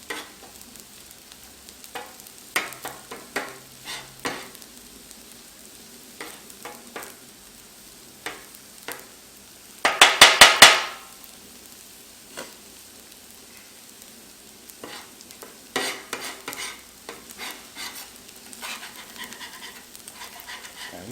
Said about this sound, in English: And go ahead and start mixing it in with your rice